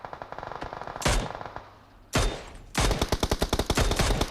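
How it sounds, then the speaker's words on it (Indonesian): Automatic gunfire in PUBG Mobile, rapid rhythmic bursts of shots separated by short pauses, loud and close, with no talk. "gue tembak Pak"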